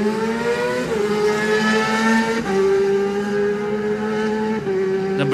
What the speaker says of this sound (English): Number 13 is next, Kawasaki of Paul Marley.